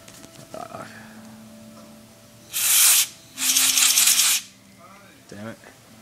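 An electronics cleaner spray can blasting into a laptop fan in two loud bursts of hiss, the second longer than the first, with voices talking before and after.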